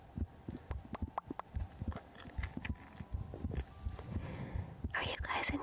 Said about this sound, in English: Are you guys enjoying the heartbeat though? Does my heart sound okay?